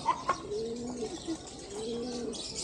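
Soft cooing of pigeons or doves, a few low repeated coos with brief chirps, moderately close against quiet background noise.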